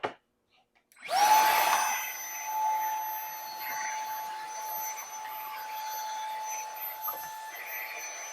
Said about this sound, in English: The shop vac.